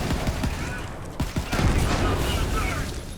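Sawbar assault rifle in Borderlands 3 firing a rapid burst of shots that blend into a dense, continuous roar under faint game noise.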